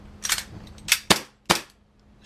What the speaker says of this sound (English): Can we shoot?